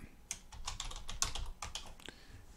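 Computer keyboard typing, a quick run of light key clicks close up and fairly quiet, with no voices.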